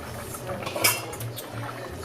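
A metal lid clanks onto a pot of New Orleans jambalaya with one bright clink in the middle, over a low background rumble and faint bubbling.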